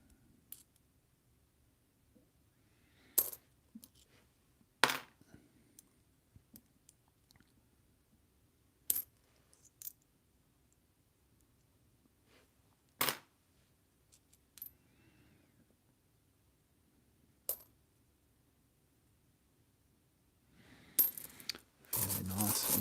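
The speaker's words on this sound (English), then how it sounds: "Trying to remove out the 1 cent coins so I can focus on the 2s." Coins drop and clink one at a time while 1 and 2 cent pieces are sorted by hand, sharp metallic hits at irregular intervals, with a longer jumble of pouring coins near the end.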